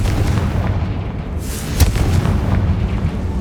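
Confringo fire spell explosion in the Hogwarts Legacy video game, a loud booming blast with a sharp crack near the middle, over a rumbling low background.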